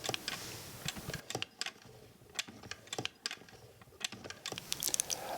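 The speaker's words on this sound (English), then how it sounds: "Here's a close-up of the vertical feed in action." An antique Davis vertical feed sewing machine runs up close, its mechanism giving off a busy run of sharp mechanical clicks and ticks in an uneven patter, with no voices.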